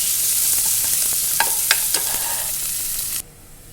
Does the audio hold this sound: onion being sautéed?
yes